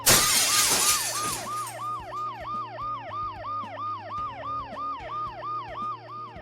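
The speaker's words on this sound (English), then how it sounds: "The noise the ambulance makes will cover the sound of the glass breaking." In the video game Dead Synchronicity, glass shatters loudly at the start, then an ambulance siren wails in a steady, rapidly repeating up-and-down pattern over a low hum, with no talk.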